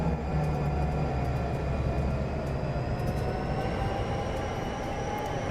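A freight locomotive powers up on the Mt Shasta Railway in Train Sim 2022, giving a continuous loud rumbling drone with a faint rising whine above it and no speech.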